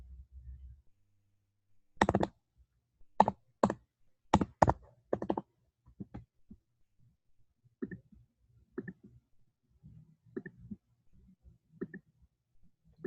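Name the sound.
typing on a computer keyboard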